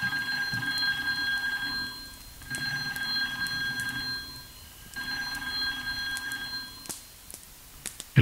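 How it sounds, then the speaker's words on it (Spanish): Motel telephone rings in repeated bursts, each electronic trill lasting about two seconds with short silent gaps between, fairly close and alone. "Entonces, a la 1:33 sonó el teléfono."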